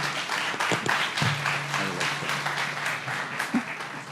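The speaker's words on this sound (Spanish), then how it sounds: "Démosle, por favor, un fuerte aplauso a la doctora." A conference audience gives a round of applause for a doctor about to present her talk, dense sustained clapping filling the room with a few scattered voices underneath.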